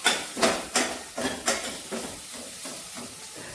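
Soya chunks roasting in hot oil, stirred in rhythmic scraping strokes about every half second over a steady sizzle, the strokes fading toward the end; close and moderately quiet.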